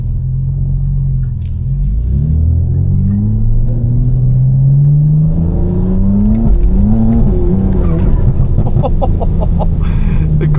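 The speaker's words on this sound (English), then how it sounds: "The car just completely torqued sideways" An 800HP BMW M4 on a wet road, its engine rising and falling loudly as it revs while the car slides sideways, with harsh tire chatter and wheel hop toward the end.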